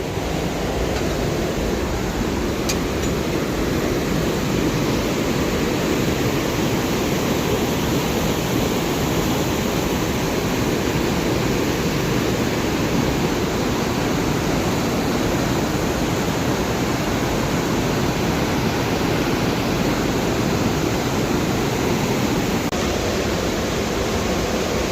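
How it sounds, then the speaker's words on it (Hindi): A swollen, dangerous river rushes after heavy rain in a hill village, a dense, steady roar of churning water filling the whole stretch without pause, loud and continuous with no voices. "लेकिन पानी अभी भी बहुत ख़तरनाक है, बहुत डरावना है।"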